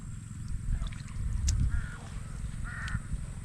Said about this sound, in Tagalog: May mga uwak na naman yan.